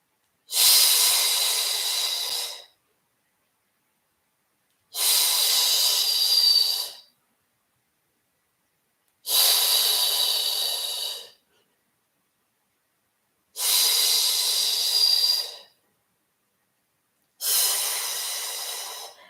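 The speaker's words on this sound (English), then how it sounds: "vigorously start pumping the arms up and down as you inhale for a count of 5 and exhale for a count of 5" Five loud, hissing breaths during a vigorous Pilates arm-pumping exercise. Each lasts about two seconds and they come at a steady, even pace with near silence between them.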